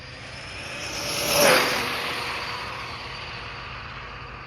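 A high-speed RC car on a 4S LiPo pack runs on its test strip, its faint whine swelling to a brief, sharp pass near the listener and then fading into the distance.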